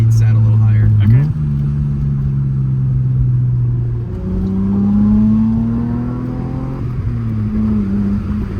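A 1995 Ford Probe GT with a five-speed manual revs and accelerates from the cabin. The engine note climbs, drops back with a gear change, then rises again in a loud, continuous run.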